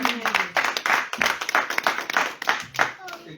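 Church congregation clapping rhythmically in praise, close and lively, with a voice speaking over the steady beat of hands.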